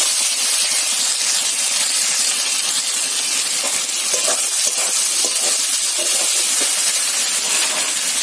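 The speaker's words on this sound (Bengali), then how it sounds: "এবার আমি জল ঢেলে দেবো।" Water goes into a pan of hot potato curry and throws off a loud, steady hiss of steam and sizzle that fills the whole stretch, with faint bubbling underneath and no voices.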